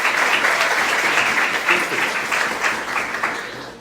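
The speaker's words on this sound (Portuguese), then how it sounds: "Ele merece ou não merece uma salva de palmas?" A podcast audience gives a round of applause, a sustained, loud burst of many people clapping that fades gradually toward the end, with no voices over it.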